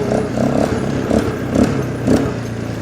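A quad ATV idles at a remote off-grid fishing lodge, its engine a steady low rumble with rhythmic clattering and scraping from bearings in need of grease, close and fairly loud.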